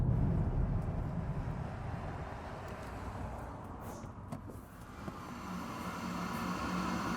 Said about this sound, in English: It does sort of make this sounds like a Hoover in the distance or something when you turn it off.